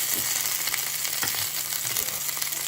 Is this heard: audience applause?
no